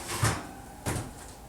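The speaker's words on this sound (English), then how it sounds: "We'll open up our oven, pull out our piping hot Dutch oven." A preheated oven door opening so a hot Dutch oven can be pulled out for baking sourdough bread: two dull, close knocks about half a second apart, over a low steady background hum.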